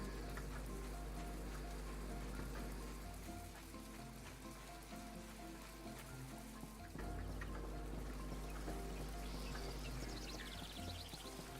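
Steady rain in the video game My Time at Portia, a dense continuous patter over a low background hum and game music, constant and fairly loud, no voices.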